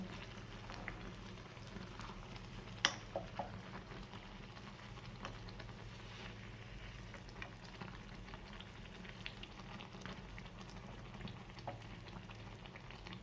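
Potato bajji frying in hot oil, a faint, even crackling fizz that runs unbroken and close, with a single sharper pop near the start.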